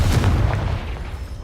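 Confringo spell explosion in the Hogwarts Legacy video game, a single heavy boom with a low rumbling body that decays over about a second.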